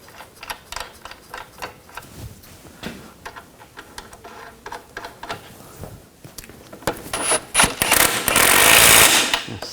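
A hand ratchet clicks in quick repeated bursts while nuts are run onto the rear suspension integral links of a 2000-2006 BMW X5, close up, growing louder and busier near the end.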